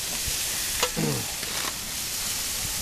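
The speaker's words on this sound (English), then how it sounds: "That oil, as you can see, will flare up, and it helps sear the meat." Venison and bacon kabobs sear on a barbecue grill as dripping oil flares up, giving a steady broadband sizzle and hiss with a brief louder flare burst near the middle.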